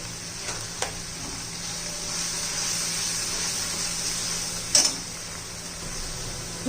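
Suran (elephant foot yam) curry cooking in a pan of oil gives a steady, close sizzle, broken by a couple of light clinks of a spoon or utensil against the pan.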